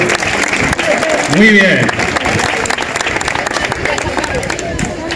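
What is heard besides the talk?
audience applause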